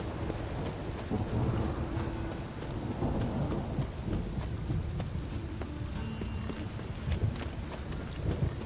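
Steady rain with rolling thunder in The Witcher 3: Wild Hunt, a dense continuous wash of falling rain and low rumbles that holds at an even, fairly loud level throughout, with no voices.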